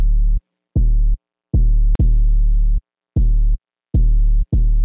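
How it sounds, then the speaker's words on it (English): An 808 bass run through an erosion plugin set to wide noise for a hyperpop track, heard as a series of loud, punchy bass notes in a choppy rhythm, several carrying a gritty noise haze across the top end. "one of my favorite plugins to use for this is this erosion plugin with wide noise."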